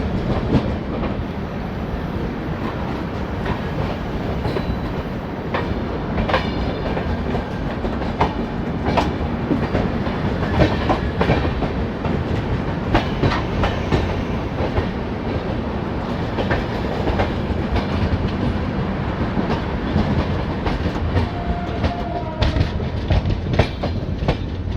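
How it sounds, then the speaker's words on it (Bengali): Indian express train running between New Delhi and Malda Town slowly entering Pt. Deen Dayal Upadhyaya station, a steady close rumble with rhythmic wheel clatter over rail joints and occasional faint squeals, continuous throughout with no talk. "গাড়ি এবার ধীরে ধীরে পণ্ডিত দীনদয়াল উপাধ্যায় স্টেশন ঢুকছে"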